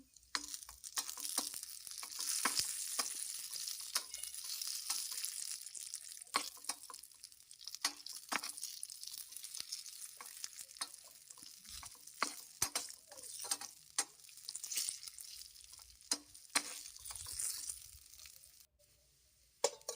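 Raisins, cashews and almonds fry in ghee for a moong dal payasa, giving a steady close sizzle with crackles and scattered clicks of stirring throughout, and no voices.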